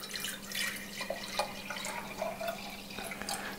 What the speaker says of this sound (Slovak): Do pohára dáme čistú vodu.